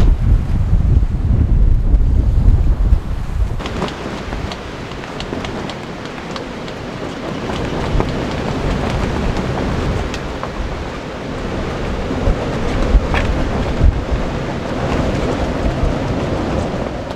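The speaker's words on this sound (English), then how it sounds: "just in time for the windy weather that's now here" Strong wind coming down a mountaintop roars and buffets a microphone continuously on a sailing trip, with a heavy gusty rumble throughout and sharper gusts at the start.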